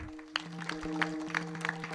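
Audience at a kirtan claps in a steady rhythm, soft, evenly spaced claps over a sustained drone-like tone, fairly faint and with no talk.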